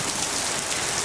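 Steady, dense rain pours down around a porch during a summer storm, a constant hiss of falling water heard close and alone, with no voices.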